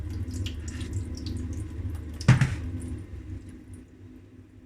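Tap water runs into a sink while peeled beans are washed for bean cake, a steady close stream with one sudden splashing gush partway through before it quiets down.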